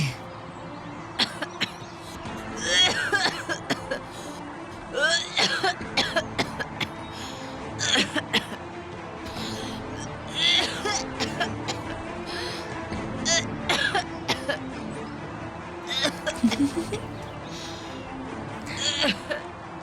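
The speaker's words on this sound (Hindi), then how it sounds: "ये खांसी भी रुकने का नाम ही नहीं ले रही है।" Repeated harsh coughing fits, near and loud, coming in bursts with short pauses throughout, with faint background noise between them.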